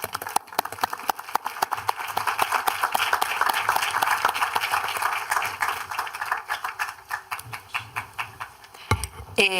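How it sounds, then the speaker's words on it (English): Conference audience applauding presenters at the close of a technical session on preventing work-related cancer: dense, sustained clapping from many hands that thins into scattered individual claps before a brief thump at the end. "And one last round of applause for our presenters."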